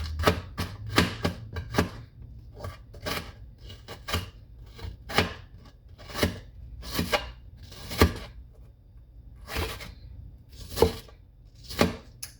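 A knife chops onion on a cutting board in a home kitchen, with a long series of crisp, irregular close-up strikes, sometimes in quick bursts and sometimes spaced apart, and no talking.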